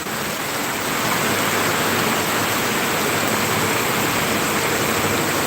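Heavy rain pours down in Subulussalam, Aceh, as a loud, dense, unbroken roar of falling water that stays level throughout, with no voices.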